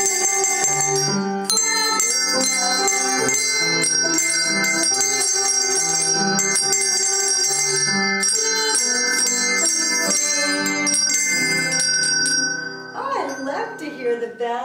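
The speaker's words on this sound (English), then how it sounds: "we want to ring our bells this morning as we begin our Sabbath school" Handheld bells rung together by a Sabbath school group make a bright, continuous jangle of overlapping tones for about twelve seconds, then the ringing thins out as a voice begins near the end.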